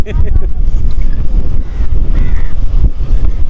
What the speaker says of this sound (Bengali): ইঞ্জিন স্টার্ট দিয়ে দিয়েছে।